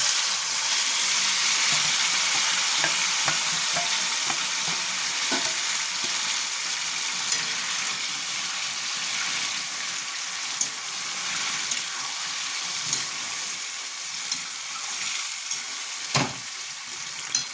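Chicken pieces for a chicken chaap recipe sizzle and fry steadily in a pan, with frequent stirring scrapes and occasional utensil clinks over a constant loud hiss, no voices.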